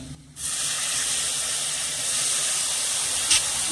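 Water poured into powdered spices frying in a pan, bursting into a sudden loud hiss that starts after a brief quieter moment and then continues as a steady steaming sizzle; no talking.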